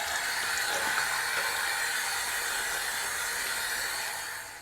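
Water spray rinsing an Ikonart stencil, a steady broad hiss of running water held close and fairly loud for the whole stretch, easing off slightly at the end, with no talking.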